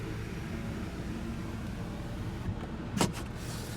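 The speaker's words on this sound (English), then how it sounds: "this operates your shade for the sunroof in the back" Power sunroof shade motor in a 2016 Nissan Pathfinder Platinum, a faint steady whir in a quiet cabin, followed by a brief soft click near the end.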